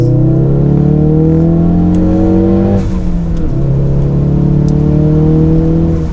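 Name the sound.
Ford Focus RS accelerating in second gear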